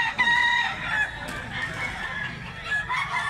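A nine-month-old Cebu gamefowl stag, a young black rooster, crows in a short drawn-out call close by, with faint background clucks from other fowl.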